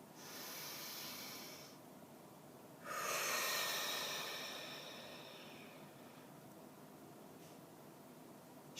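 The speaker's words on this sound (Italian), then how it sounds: "Facciamo un bel respiro profondo." Slow, deep breaths drawn and released during a seated relaxation exercise, a soft airy inhale followed by a longer, louder exhale, close and alone with no talking.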